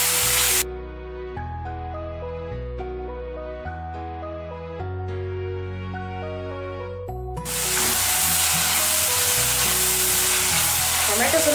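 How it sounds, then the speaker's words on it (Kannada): Tomato sizzles in a hot pan while cooking for suvarnagadde (elephant foot yam) palya: a brief burst of sizzling opens, music plays over the middle, then a loud, steady, close frying hiss fills the last few seconds. "ಟೊಮೆಟೊ ಕೂಡ ಮೆತ್ತಗಾಗೋ ತನಕ ಹುರ್ಕೊಳ್ಳೋಣ"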